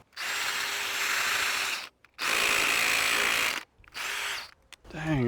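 A power drill fitted with the wrong 5/8 inch smooth-shank bit whirs into wood in three long bursts separated by short pauses, the bit slipping in the chuck, with a brief voice at the end.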